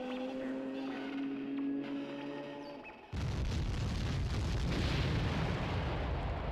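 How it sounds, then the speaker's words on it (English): A huge explosion in a Zelda Ocarina of Time / Wind Waker multi-world randomiser game bursts in suddenly and loud partway through, replacing a quieter tonal game backdrop with a sustained broadband roar. "I don't remember that huge explosion sound,"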